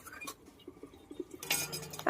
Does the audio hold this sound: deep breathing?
no